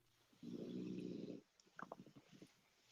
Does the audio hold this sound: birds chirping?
no